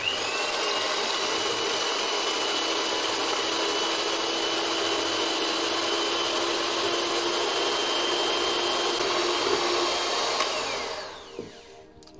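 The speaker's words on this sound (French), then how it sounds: "je vais battre mes blancs en neige" An electric mixer whips egg whites to stiff peaks, a steady high whirring drone that runs unbroken for about ten seconds before it winds down and stops.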